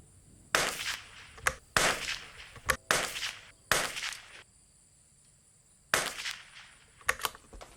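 Sharp, loud rifle reports from a CZ 457 rimfire firing a group of shots, about seven cracks spaced irregularly over several seconds, some in quick pairs, with quiet gaps between and no talking.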